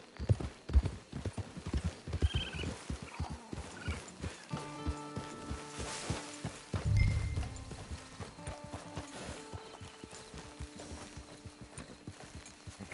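Horse hooves clip-clop steadily in a PS4 video game, a near, rhythmic run of hoofbeats with a brief whinny partway through and faint game music beneath.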